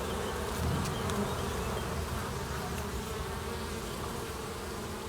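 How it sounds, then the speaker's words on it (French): Honeybees hum in an open hive during a late-May inspection, a dense, steady buzz close by with a few individual bees passing, no talking. "La ruche est calme et elle ne chante pas."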